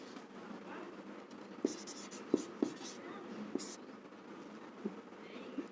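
Chalk or marker tapping and scratching on a classroom board while writing an exponent, a few sharp taps spaced out over quiet room tone.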